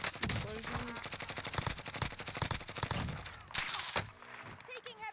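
Rapid automatic gunfire from the Warzone video game rattles continuously and loudly throughout, with occasional louder bursts and a brief lull near the end; voices talk faintly underneath.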